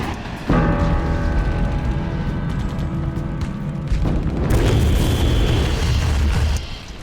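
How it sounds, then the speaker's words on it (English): WWII flame-throwing tanks spray burning petroleum-based gel, making a loud, sustained roaring whoosh with rumbling booms. The sound shifts partway through, as if into a second burst. "Marines bring in flame-throwing tanks that spray a petroleum-based flammable gel."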